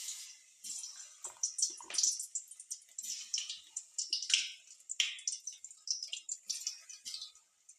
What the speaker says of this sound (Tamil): எண்ணெயில் போட்டு ஃப்ரை பண்ண போகிறோம்.